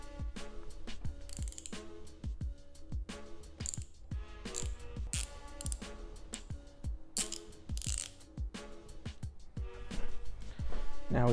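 A lever on a Ducati Hypermotard 698 Mono motorcycle is undone with a rapid series of close, sharp ratcheting clicks that repeat through the whole stretch, loud and with no talking.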